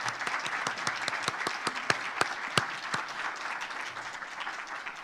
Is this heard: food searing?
no